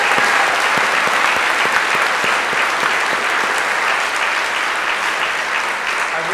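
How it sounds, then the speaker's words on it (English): Sustained audience applause for competition judges at a fast pitch event, a dense wash of many hands clapping steadily throughout, loud and close, with no talking over it. "how about a round of applause for our wonderful judges tonight?"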